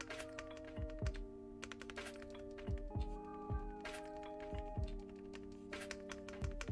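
Typing on a custom Pegasus mechanical keyboard with a silent spacebar, a close run of soft, rapid clacks and thocky key presses in an irregular rhythm, with no talking.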